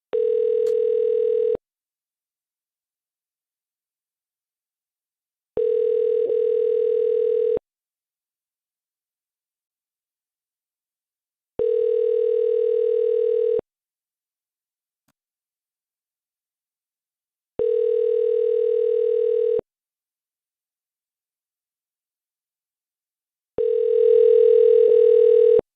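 Repeating telephone ringback tone on an outgoing call: five steady two-second beeps separated by about four seconds of silence, clean and loud with no one talking.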